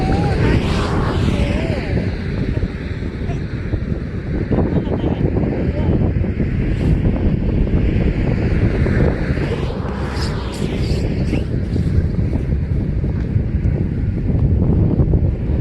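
Strong wind buffets the microphone on the West Sea coast at Ganghwa Island, a loud, constant roar that continues without a break the whole time.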